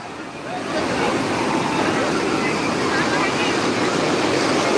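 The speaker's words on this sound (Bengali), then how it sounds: "ও সেই দমকা ঢেউ দিচ্ছে পুরো মস্তি মস্তি ঢেউ দিচ্ছে" Ocean waves at Digha beach make a dense, steady roar of surf that grows slightly louder after the first second and holds at full strength throughout.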